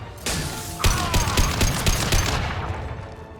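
Gunfire in the sci-fi shooter game Mass Effect 2, a loud close burst of rapid shots and impacts after a brief lead-in, fading out toward the end with no talk.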